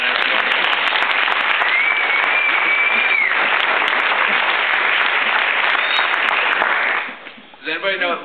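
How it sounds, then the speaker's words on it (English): Loud, dense applause from a comedy show audience fills the room for about seven seconds, then dies away abruptly as a voice starts talking over the last moments. "Give another round of applause for Jason Lansdowne."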